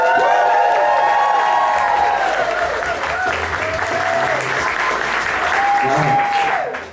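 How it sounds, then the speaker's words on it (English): A comedy theater audience bursts into dense, steady applause with whoops and cheers for a stand-up comedian, holding loud throughout before cutting off. "Please applaud loudly and woo your loudest woo"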